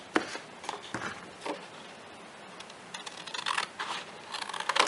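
Recycled cardboard box being trimmed along its edge for a dollhouse, a string of short crisp cuts and snips repeating at close range with brief pauses between them.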